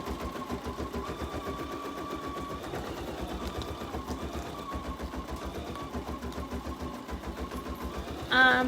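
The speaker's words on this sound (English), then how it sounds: "This one takes a little bit of time to stitch out" Embroidery machine stitching out a design on a towel, a fast, even mechanical chatter running steadily throughout at moderate loudness, with a brief louder clatter at the end.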